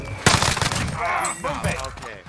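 Rapid automatic gunfire in the video game Call of Duty Warzone, a dense close burst of shots layered with game voices and effects over a couple of seconds.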